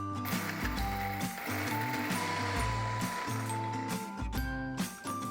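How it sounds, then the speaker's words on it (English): An electric spice grinder crushes a peri peri masala blend with salt into a coarse powder, whirring loudly and unevenly in close bursts for several seconds, the pitch shifting as the contents tumble, with no talk. "Let's grind this into a fine powder or a coarse one,"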